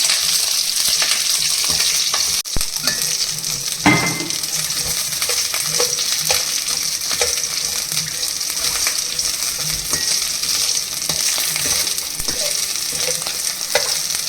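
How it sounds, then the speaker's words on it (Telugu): Green chillies and cumin frying in hot oil in a pan while being stirred, a steady crackling sizzle with occasional scrapes and clinks of the spoon against the pan. "మిర్చి వేసుకోవాలి. ఇలా మంచిగా గోలించుకోవాలి."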